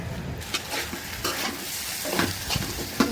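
Taro stolons frying with dried shrimp in a pan, a steady close sizzle broken by repeated scraping stirs of the spatula, with no voices.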